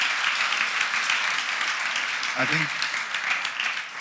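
An audience applauds panelists at the close of a discussion on pro-social design for deliberative spaces, a steady wash of clapping running throughout while a voice briefly speaks over it.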